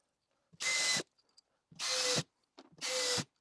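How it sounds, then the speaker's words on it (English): A power screwdriver drives drywall screws into plasterboard during drylining. Three separate loud, close whirring bursts of about half a second each come with short pauses and faint clicks between them. "We can now screw all these in."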